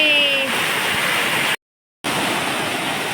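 Heavy rainwater gushes and roars as a steady broadband rush after a downpour on a farm, loud and continuous apart from a half-second gap.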